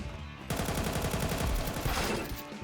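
Rapid bursts of Counter-Strike 2 gunfire crackle continuously for a couple of seconds, dense and loud, with no talking.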